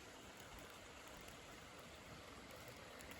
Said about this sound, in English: Little babbling brook, isn't it?